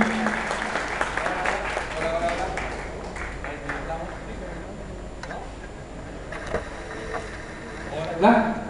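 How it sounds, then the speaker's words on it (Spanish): Audience applause at a magician's show, a continuous crowd clapping that fades gradually and then picks up with a brief louder burst near the end, with someone talking over it. "Veo que el aplauso es medio pobre"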